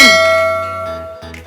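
A single bright bell-like ding rings out with a sharp attack and a long, slowly fading metallic tail, a notification chime standing alone without any talk.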